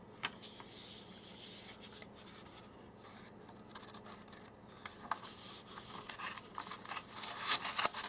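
Scissors make a SIM card smaller, with several short, dry snips and scrapes that grow louder and closer toward the end. No one speaks.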